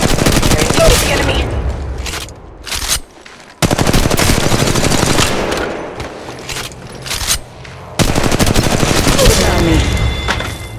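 A fully automatic Mastiff shotgun fires in Apex Legends Mobile, producing loud, rapid blasts in three long sustained volleys separated by short pauses.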